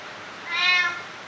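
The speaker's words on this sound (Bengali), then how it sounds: "নাও বলো ম্যাও ম্যাও বলো।" A cat gives a single drawn-out meow, loud and close, rising and falling over about half a second against quiet room background.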